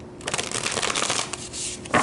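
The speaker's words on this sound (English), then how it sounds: "Let's pull some cards to see about potential timing for a reunion" Tarot cards being shuffled by hand, a close, crisp riffling flutter that runs for a couple of seconds with brief pauses and a sharper snap near the end.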